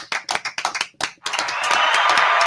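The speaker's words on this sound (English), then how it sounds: "Clap it up for Tone." Studio audience clapping for a guest on a talk show, a few sharp separate claps near the mic that quickly swell into loud, dense, sustained applause.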